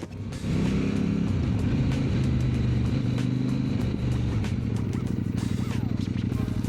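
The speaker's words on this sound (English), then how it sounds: "The exhaust sound is very refined, quiet, and let you hear the intake growl." A KOVE 800X GT adventure motorcycle on the move, its refined, quiet exhaust and intake growl forming a steady, low, close engine drone that holds evenly after a brief soft start.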